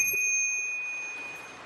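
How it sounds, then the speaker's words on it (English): A brass bicycle bell mounted on a Lectric XP electric trike gives a single bright ring that hangs in the air and slowly fades out, close and clear. "It's called a brass bell."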